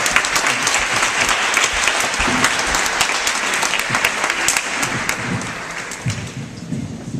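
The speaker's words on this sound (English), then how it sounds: "Give Mr. Mikey one more round of applause for that." Lively audience clapping follows a talk, loud and close with individual sharp claps standing out, tapering slightly toward the end, with a few low voices murmuring underneath.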